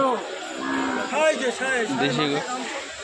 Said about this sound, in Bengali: এখানে কিছু দেশি গরু আছে, দেখতে পাচ্ছ।